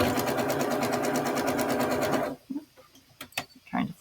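A sewing machine stitches a quilt block seam in a fast, steady mechanical whir up close for about two seconds, then stops, leaving light handling clicks and fabric rustle.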